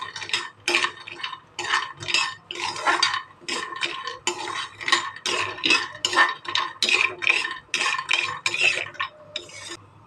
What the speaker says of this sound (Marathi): आता त्याला चांगलं ढवळायचं